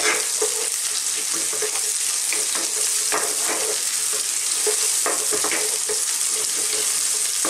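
Onions sizzle and crackle loudly in a frying pan, a dense, continuous hiss with light stirring scrapes on top, close and with no voices.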